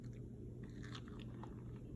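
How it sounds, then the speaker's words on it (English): Someone bites into crunchy homemade popcorn chicken, giving a few faint, quiet crunching bites and chews over a low background hum. "Let's taste our popcorn chicken."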